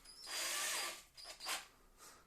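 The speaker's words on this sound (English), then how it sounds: "So it's spinning again." Power drill spinning a wooden spar chucked in place of a bit, a brief whirring burst that fades, then two shorter surges, faint and close with no talking.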